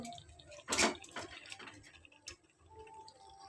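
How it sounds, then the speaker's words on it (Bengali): Rice is poured into a cooking pot for biryani: a brief, soft rushing patter near the start, followed by a few faint ticks and clicks in a quiet kitchen. "এবার চালটা দিয়ে দেবো আমি এই চালটা দিয়ে দিচ্ছি"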